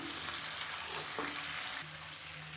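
Onion, mint and coriander sauté in a pan with a steady, hissing sizzle that drops slightly in level near the end, and one brief stir in the middle. No voices.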